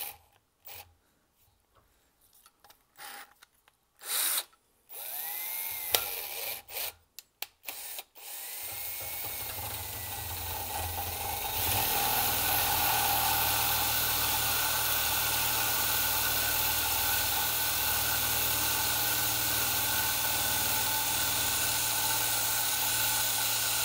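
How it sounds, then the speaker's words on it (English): A hole is drilled through a plastic condenser sensor or noise filter part from a 2011 Toyota Corolla clamped in a vise, heard as sporadic short bursts that settle into a steady, loud grinding whir lasting several seconds. "Alright, so now I'm going to try and drill a hole through here."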